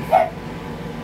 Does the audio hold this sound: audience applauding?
no